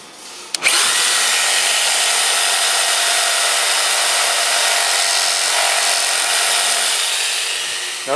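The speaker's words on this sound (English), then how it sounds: "This is going to require a few different passes with this saw." A jigsaw starting up with a click and then cutting a notch in wood, a loud steady high-pitched whine held close for about seven seconds before easing off at the end.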